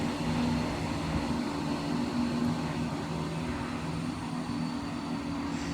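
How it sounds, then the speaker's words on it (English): ScotRail Class 170 diesel unit 170 432 pulls out of Linlithgow station with a steady, droning engine hum and whine. The sound holds at moderate loudness from nearby without voices. "170 432 on the 1014 ScotRail service to Edinburgh Waverley from Glasgow Queen Street. Now leaving"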